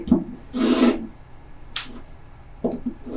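A rotary cutter slices a fabric strip along a quilting ruler in a few short, sharp rasping strokes, with quiet pauses between them.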